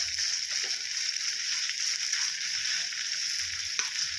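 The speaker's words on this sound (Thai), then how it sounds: "ก็ใส่พริกแกงลงไปผัดเลยนะครับ" Steady sizzling and crackling of Thai curry paste stir-frying in a little hot oil for chicken jungle curry, close and continuous, with faint scraping of stirring now and then.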